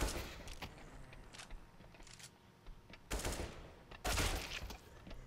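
Gunfire from a CSGO zombie survival match, with scattered bursts of rapid shots that surge loudly near 3 and 4 seconds over a steady background of game noise.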